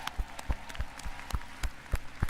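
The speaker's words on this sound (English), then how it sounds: "give yourselves a round of applause for joining us here in Anaheim" Audience clapping and cheering at PlayStation Experience in Anaheim, heard as sparse, scattered hand claps with distinct sharp pops over a low crowd murmur.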